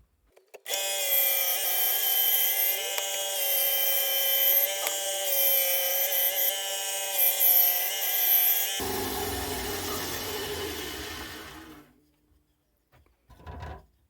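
Power saw cutting a wooden offcut into strips for a garden sieve, a loud steady high whine with rising and falling pitch for about eight seconds, then a rougher grinding cut that winds down into silence with a brief knock at the end.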